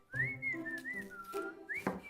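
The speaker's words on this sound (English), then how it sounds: "Whistle while you work." A person whistles a short, wavering melody in a kitchen while baking onion rings, a few gliding notes close by and fairly quiet, with no talking.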